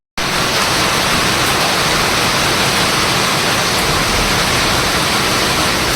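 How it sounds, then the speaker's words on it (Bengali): Heavy rainwater rushes and pours in a loud, steady broadband roar that starts abruptly and continues without a break, with no voices. "প্রচুর পানি নামছে"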